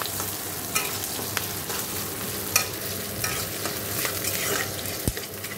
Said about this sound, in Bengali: তো ভালো করে ভেজে নেবো পেঁয়াজটা